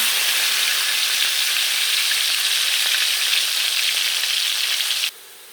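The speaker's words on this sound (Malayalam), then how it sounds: "ഇനി കുറച്ച് കിസ്മിസ് വറുത്തെടുക്കാം" Raisins frying in hot oil for mutton biryani, a dense, even, close sizzle that holds steadily for about five seconds, then cuts off abruptly.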